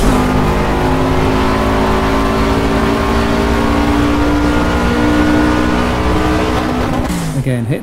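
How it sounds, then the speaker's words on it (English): Race car engine in Project Cars held high against the rev limiter, a loud sustained buzzing drone with steady harmonics that drops away sharply near the end. "Again, hitting the rev limiter."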